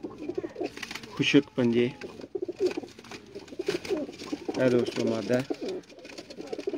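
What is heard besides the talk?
Sialkoti pigeons cooing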